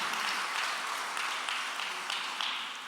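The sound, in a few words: congregation applauding in church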